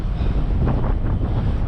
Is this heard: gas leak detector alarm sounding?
no